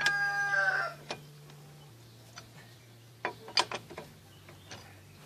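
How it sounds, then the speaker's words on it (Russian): A rooster crows near a village at the start, a loud strained call lasting about a second, followed by quieter scattered clicks and mechanical taps from car repair work. "Вокруг меня, короче, орут петухи"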